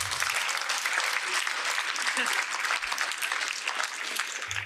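A hall audience applauds in a dense, steady burst of clapping that holds at full strength for several seconds.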